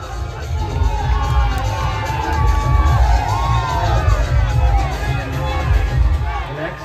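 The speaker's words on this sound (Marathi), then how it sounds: "जोरदार टाळ्या क्षेत्रपाळ गोविंद पथकासाठी." At a Dahi Handi celebration in Khed, Ratnagiri, a crowd cheers and whoops for a six-tier human pyramid, loud and continuous with shouts and babble throughout.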